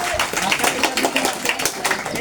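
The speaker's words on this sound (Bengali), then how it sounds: "সবাই জুড়ে একটা হাততালি দেই" Wedding guests clap together in a group, a steady patter of many hands at close range with a lively, slightly uneven rhythm under a busy room.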